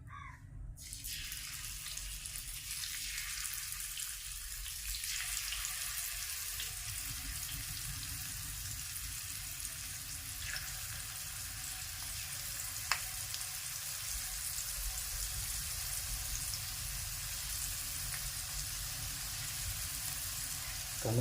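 Prawns frying in hot oil, a continuous hissing sizzle that thickens after the first seconds as more go in, with a sharp click partway through, steady and moderately close, no speech.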